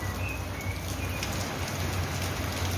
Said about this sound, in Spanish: ¡Está lloviendo mucho!